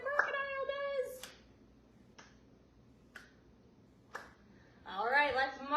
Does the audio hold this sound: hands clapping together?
yes